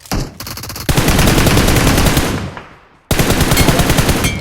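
Gunfire in PUBG Mobile: a fast automatic burst, then a long loud stream of rapid shots that fades out and resumes abruptly with another close, continuous burst.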